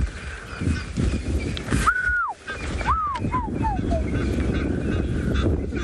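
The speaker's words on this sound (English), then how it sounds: "the call of the African fish eagle" An African fish eagle gives a ringing, yelping call of several descending notes, fairly close, over steady outdoor safari background noise and rumble in South Africa.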